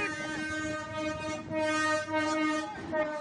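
A train rolls past in Calamba, Laguna, its loud, sustained multi-tone horn blaring over the rumble and clatter of the cars, close by, with a brief dip in the middle before the horn swells again.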